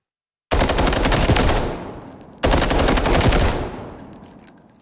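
Automatic gunfire in the Delta Force video game, two sustained rapid bursts of shots with a short gap between them, each ending in a fading echo tail.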